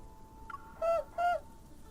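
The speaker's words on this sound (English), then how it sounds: "I hear several soft hoots outside the window." An owl outside a window in the game Love & DeepSpace gives two soft, evenly spaced hoots over a quiet ambient hum, preceded by a faint chime.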